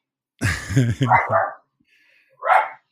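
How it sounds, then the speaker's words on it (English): A dog barks a few times close by in short, loud bursts separated by brief silences. "there she is. My dog, Tammy."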